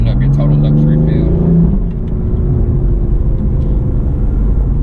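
A BMW F82 M4 turbocharged coupe accelerates with slight turbo lag, its engine note a steady droning rumble that dips briefly then holds on, with people talking over it inside the car.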